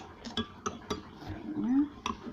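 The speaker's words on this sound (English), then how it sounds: "So 2 tablespoons, stir it in so it's all mixed up." A spoon stirs cornstarch into cream of asparagus soup in a pot, giving a series of irregular clinks and scrapes against the metal, with soft sounds of handling in between.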